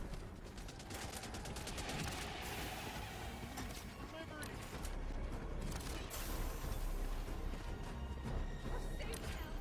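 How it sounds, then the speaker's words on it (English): Machine gun turret rattling off sustained bursts in the video game Helldivers 2, dense continuous fire with crashes and game effects throughout, loud and busy from start to finish. "Best machine gun turret in the fleet."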